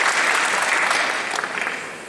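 Convention panel audience applauding, a steady dense wash of clapping from a crowd that holds for the full span and fades slightly near the end.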